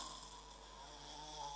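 Someone imitates snoring with a steady, droning rasp sustained throughout, close and fairly faint, with no other talk.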